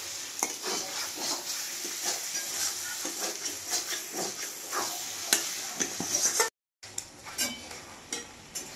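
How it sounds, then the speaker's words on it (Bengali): Beef fat fries with spices in a pot for a gourd curry, a close steady sizzle broken by frequent metal spoon scrapes and clinks against the pan, with a brief cut near the end. "চর্বিটা ভাজা হয়ে গেছে মশলার সঙ্গে।"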